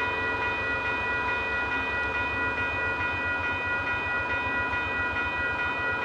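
A VIA Rail passenger train sounds its horn up close, a loud sustained multi-tone blast that holds steady over the rumble and rhythmic clatter of the rolling train for several seconds.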